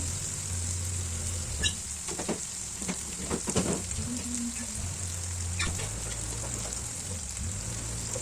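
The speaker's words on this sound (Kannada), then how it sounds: "ಅದನ್ನು ಕೂಡ ಚೆನ್ನಾಗಿ ಮಿಕ್ಸ್ ಮಾಡ್ತಾ ಅದನ್ನು ಫ್ರೈ ಮಾಡ್ಕೋತಾ ಇದ್ದೀನಿ" Ingredients for egg dum biryani frying and being stirred in a pan: a steady, moderate hiss of sizzling oil with occasional scraping stirs and light clinks, without voices.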